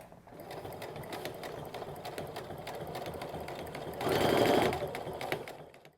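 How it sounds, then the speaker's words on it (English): A sewing machine fitted with a zipper foot stitches a straight seam through fabric beside foam, running at a steady, fast, close whir that swells briefly louder near the end. "we're going to take the zipper teeth, or the zipper foot, and we're going to stitch straight down here, joining our outsides"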